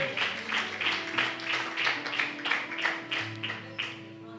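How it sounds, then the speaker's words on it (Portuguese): A church congregation claps hands together in a steady, even rhythm, crisp repeated claps over sustained musical tones throughout. "desocupar as mãos e bater palmas para Jesus"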